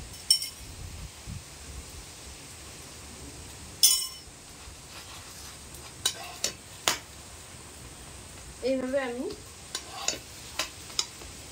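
Peanut-filled dough frying in a little white oil in a pan: a faint, steady sizzle with scattered clinks and scrapes of a utensil, and a voice speaking briefly near the end.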